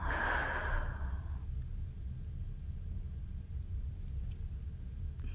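A long, breathy exhale during a beginner yoga session, audible for the first second or so before trailing off, leaving a low steady rumble of room noise.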